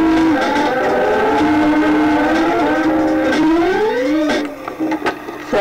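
A wailing ambulance siren rises and falls continuously, loud and near, sweeping in pitch before cutting down near the end.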